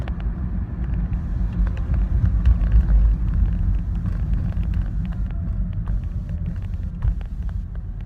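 A car in motion heard from inside the cabin, giving a loud, steady low rumble of engine and road noise with small clicks and rattles and no talking.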